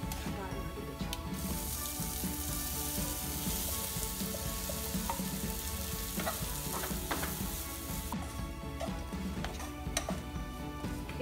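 Moong dal with a tempering of turmeric and red chili being sautéed in a pan, giving a dense continuous sizzle with scraping stirs and small ticking clicks throughout. No voice is heard.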